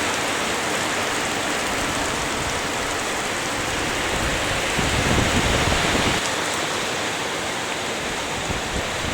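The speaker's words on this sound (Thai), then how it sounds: "ฝน เทกระนำลงมาอย่างหนักเลยนะครับ" Dense, steady downpour hissing continuously over a rubber plantation, heavy rain pounding surfaces with no voices, a slight swell midway.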